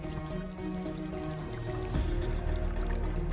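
A rectangular spout on an Inca stone fountain pours a steady jet of water into a stone basin, a continuous close splashing stream with no voices.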